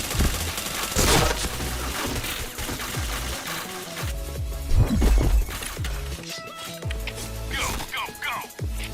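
Rapid gunfire bursts and sharp impact cracks from the online shooter game PointBlank, loud and repeated in clusters amid other game effects, with players talking over it.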